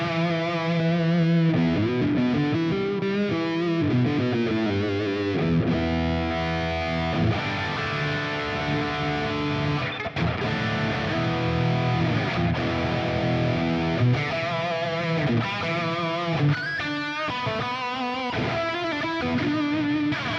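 A heavily distorted electric guitar on the neck humbucker pickup plays chunky chords and riffs, thick and saturated, continuous and loud with no voices.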